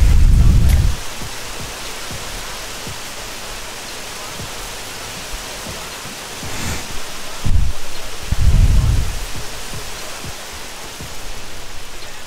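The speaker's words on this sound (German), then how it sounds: "Okay, der Regen ist vorbei." Rain in a video game makes a steady hiss of falling water, with deep rumbles of thunder at the start and again partway through.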